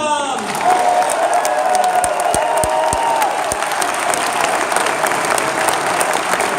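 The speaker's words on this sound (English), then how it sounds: "Clap for Adam!" Applause and light cheering from an audience at a book event, a steady, fairly loud wash of clapping, with a brief voice and a few sharp knocks near the start.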